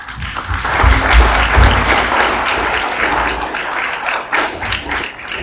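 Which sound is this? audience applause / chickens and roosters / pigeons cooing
audience applause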